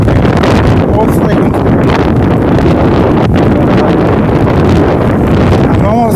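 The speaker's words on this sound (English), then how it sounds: "this wind is pushing me around" Strong wind buffets the microphone outdoors on a hot, windy day, a loud continuous low roar and rumble with gusty fluctuations that fill the whole clip.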